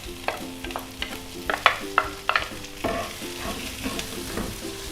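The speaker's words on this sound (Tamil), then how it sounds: "நல்லா வதங்கணும் வெங்காயம்." Two large finely chopped onions with green chili and ginger sizzle in a hot pan as a spoon scrapes and stirs, giving irregular clinks and scrapes over a soft frying hiss.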